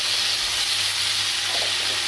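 Sliced ridge gourd drops into a hot pan of oil for a Bengali pui chhyachra with hilsa fish head, setting off a loud, steady, close sizzle and hiss that carries on without a break.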